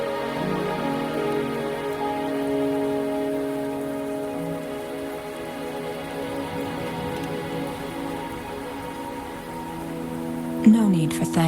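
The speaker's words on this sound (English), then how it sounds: "Are you trapped here by the rain?" Rain patters steadily in the Wuthering Waves game world beneath sustained musical tones, with a brief clatter near the end.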